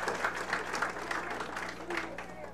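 Crowd applause at an alumni football game between Starmont and Ed Co, a steady patter of many hands clapping for several seconds, with some talk mixed in.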